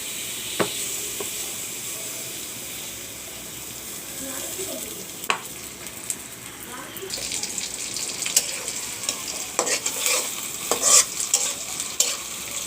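Onions sizzle in mustard oil in a wok (kadai) while a fish roe dish is started, a steady crackling fry with scattered stirring knocks and splatters growing busier toward the end.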